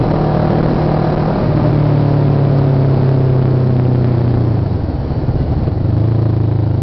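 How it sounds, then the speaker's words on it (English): A group of bike club motorcycles rides past, giving a loud, continuous engine roar with a rough, steady drone whose pitch drops partway through, heard up close without voices. "there's a bike club up ahead"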